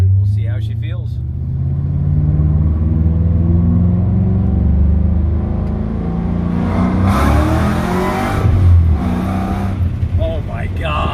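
Shelby GT500 with a TR-6060 manual transmission accelerating, its engine droning steadily and rising through gear shifts, heard from inside the car with voices talking over the engine noise.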